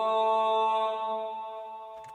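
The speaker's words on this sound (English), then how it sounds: "The reverb throw sounds like this." A reverb throw effect on a vocal in a music production: a sustained tonal note rings out and slowly decays into a fading tail, with a brief soft click near the end.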